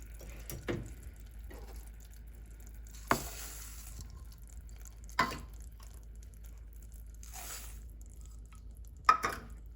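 Ingredients for no-bake squares being stirred in a pan just taken off the heat, with soft, sticky squishing and a few sharp scrapes against the pan at irregular intervals, close and quiet.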